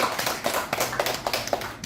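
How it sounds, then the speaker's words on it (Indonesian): Applause for Pak Agus at an Indonesian school training session, a short burst of quick, fairly close hand claps from a small group, with no talk over it. "aplaus untuk Pak Agus."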